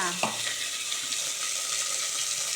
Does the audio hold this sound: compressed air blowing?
no